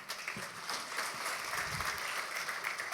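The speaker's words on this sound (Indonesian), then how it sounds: "Tapi tepuk tangan saudara masih ada bingungnya." A church congregation applauds, a steady patter of hand claps heard faintly at a distance, continuous and unbroken.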